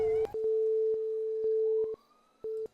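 Repeating phone busy signal inside the GTA RP video game: a steady flat beeping tone in evenly spaced pulses, mid-loud and alone, the last pulse arriving after a short gap.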